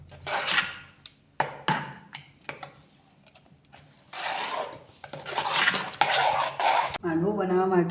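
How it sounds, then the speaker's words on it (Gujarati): Spoon scraping and stirring handvo batter of rice and gram flour in a bowl, with tempering mixed in; several bursts of rasping, clinking strokes, close and fairly loud, with pauses between. "આ રીતે આપણે બધું જ બેટર હલાવી દઈશું"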